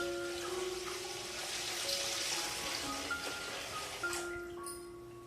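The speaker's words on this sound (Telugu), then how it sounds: "పాలు పోస్తున్నా" Milk pours steadily into a pot on a lit stove for rice kheer, a continuous close liquid splash and trickle running almost the whole time with no talk over it.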